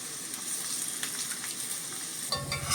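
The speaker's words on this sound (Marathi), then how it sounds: "लसूण चांगली तळली गेली आहे फोडणीमध्ये, फोडणी अगदी खमंग झाली आहे." Garlic fries steadily in a hot oil tempering for dal, giving a continuous close sizzle with light crackle and a brief stir near the end.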